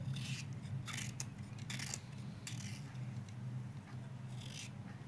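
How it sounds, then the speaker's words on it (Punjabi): Knife cuts through thick cauliflower stalks, slicing them into long pieces, giving a series of crisp, short crunching snaps over a steady low kitchen hum, close and fairly quiet. "ਜਿਹੜੇ ਮੋਟਾ ਸੀਗਾ ਡੰਡਲ ਇਹਨੂੰ ਵੀ ਆਪਾਂ ਇਦਾਂ ਹੀ ਲੰਬਾ ਲੰਬਾ ਜਿਹਾ ਕੱਟ ਲਾਂਗੇ"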